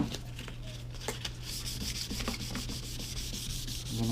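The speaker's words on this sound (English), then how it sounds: "Okay, so with that being wet, I'm gonna start sanding." Wet sanding of a foggy plastic car headlight, a steady rubbing scrape with repeated strokes, close and continuous over a low background hum.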